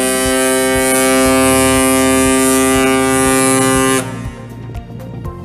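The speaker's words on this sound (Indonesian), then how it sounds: "Ini adalah suara klakson atau suling dari KM Tilongkabila." Deep, sustained horn of the Pelni passenger ship KM Tilongkabila blasts loudly and steadily for about four seconds, then cuts off, leaving a softer rumble of wind and background noise.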